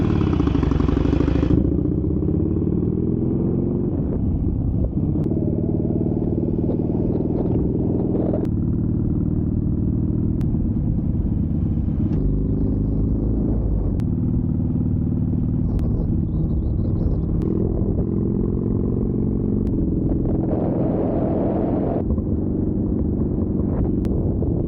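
A Harley Sportster 1200 motorcycle engine runs close by after its MOT and service, a deep, steady rumble with occasional revs that rise and settle over the length of the clip.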